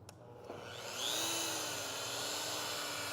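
A rotary car polisher lies upside down on a cart and is switched on, a click followed by its motor spinning up into a steady, loud, close whine that holds evenly to the end.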